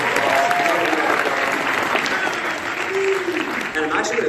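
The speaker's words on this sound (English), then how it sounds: "just give a nice big round of applause" A large audience at a sales conference gives a big, sustained round of applause, dense and steady throughout, with voices and a few cheers mixed in.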